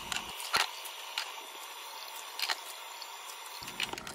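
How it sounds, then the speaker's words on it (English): Canning jars, lids and screw bands washed in hot, soapy water: soft splashing and dripping with a few brief clinks and knocks, close and fairly quiet, with no talk. "Here, I'm washing the jars, the lids, and the screw bands that I'm going to be using in hot, soapy water."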